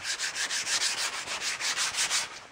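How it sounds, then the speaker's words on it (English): Wood being sanded by hand with quick back-and-forth strokes, a close, even rhythmic scratching of roughly a dozen rubs, alone and fairly quiet. "It's from sanding wood."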